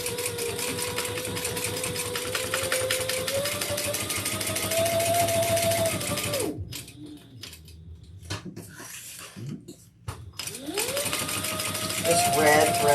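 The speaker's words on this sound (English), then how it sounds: "Let's sew that on." A sewing machine stitches red thread into black fabric, its steady motor whine running for several seconds, stopping, then starting up again, with a person talking over parts of it.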